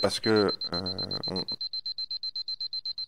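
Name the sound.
alarm going off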